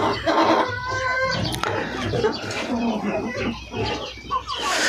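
Chickens in a winter coop, fed on a mix of corn and wheat, cluck and squawk busily and close by, with someone talking over the flock throughout.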